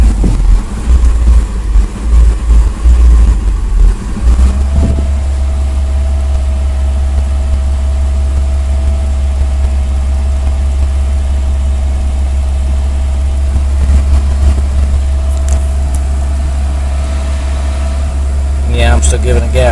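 A 1977 Chevy Luv SS engine idling with a loud, steady low drone, revved hard at first, then settling into a constant hum while a voice talks over it.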